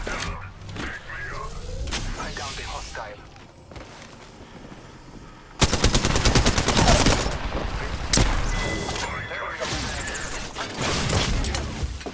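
Gunfire in the Apex Legends video game, bursts of automatic fire and impacts with loud, dense stretches, especially in the second half, under game effects and sounds of combat.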